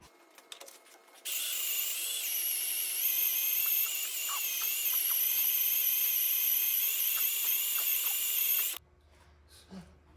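A drill slowly bores into the metal of a 1961 Cadillac front cross member, giving a steady high-pitched whine for about seven seconds before cutting off sharply, with small clicks before and after.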